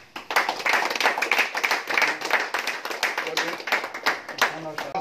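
Audience clapping and applause at a felicitation ceremony where a guest is honoured with a garland, a dense, steady patter of many hands sustained for about five seconds, with voices mixed in.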